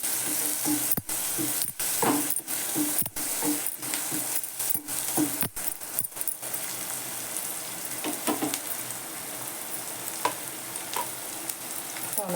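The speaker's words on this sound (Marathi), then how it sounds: "आलं हिंग हे सगळं परतू द्यायचं जरा चांगलं" Onion, ginger, curry leaves and asafoetida sizzle steadily in hot oil in a pan for a Marathi moong dal dish, with repeated sharp clinks and scrapes of a spoon stirring throughout and no talk.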